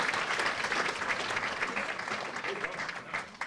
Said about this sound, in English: Please, a round of applause for everybody